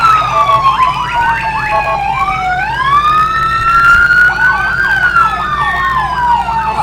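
Several police car sirens at a Fourth of July parade wail and yelp together, overlapping rising and falling tones, loud and close, with no talking.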